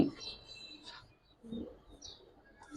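A red-necked pigeon cooing nearby, two or three soft low coo phrases separated by pauses, with faint chirps and rustling around them.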